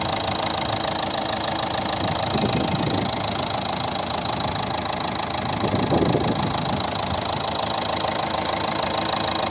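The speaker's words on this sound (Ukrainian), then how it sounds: "І послухайте, як рівно і тихо працює двигун." A 2011 Renault Megane III with a 1.5 dCi 110 hp diesel engine idles steadily and evenly, a continuous low rumble with faint mechanical clatter, close by, with no talking.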